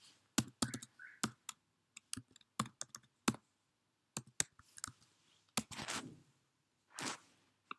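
Computer keyboard keys clicking as a username and password are typed, quick irregular taps in short bursts with pauses, close and fairly quiet, no talk.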